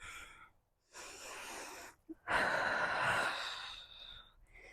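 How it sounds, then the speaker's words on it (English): Breathy exhales during a vinyasa yoga flow, including a fluttering of the lips, come in several close, soft-to-moderate bursts separated by brief pauses, with no talk. "Flutter out the lips."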